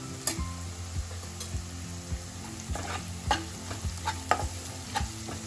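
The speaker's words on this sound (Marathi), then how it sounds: "आपली मिरची पण छान तेलामध्ये आता परतून झाली आहे" Green chillies sauté in hot oil for a vada pav filling, crackling steadily up close, with a spoon stirring and scraping the pan in repeated strokes and light metallic clinks.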